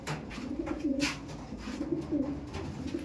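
A pair of pigeons cooing up close, soft low rhythmic coos repeating in short phrases over faint background noise.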